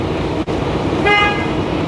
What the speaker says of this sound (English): I'm going to check my city horn.